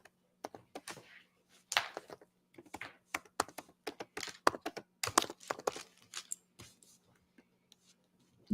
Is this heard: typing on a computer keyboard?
yes